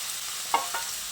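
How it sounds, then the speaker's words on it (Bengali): Soybean chunks, potato and radish are stirred in a hot spiced pan, with a steady sizzle behind two quick scraping strokes of a spoon, close and alone. "এবার এই সয়াবিনগুলো দিয়ে আলু ও মূলোর সঙ্গে বেশ কিছুক্ষণ সময় ধরে ভালো করে কষিয়ে নিতে হবে।"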